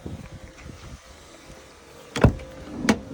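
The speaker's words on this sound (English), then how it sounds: "push on the left hand side of this little thing here, and that will then reveal the diesel filling point just there" A fuel filler flap on a Burstner A530 motorhome is pushed open, giving two sharp plastic clicks or knocks close to the microphone, about two-thirds of a second apart, over quiet background handling noise.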